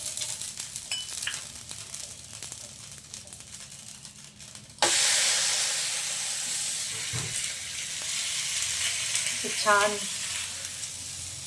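A mixed vegetable thalipeeth hits an oiled griddle with a sudden loud sizzle midway, settling into a steady frying hiss with occasional stirring scrapes, and a brief voice speaks over it.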